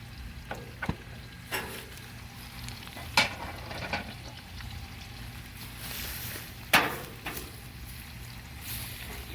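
Chicken fries over an open fire for a Thattukada-style chicken fry, giving a soft continuous sizzle and crackle with occasional sharp pops and knocks, moderately distant.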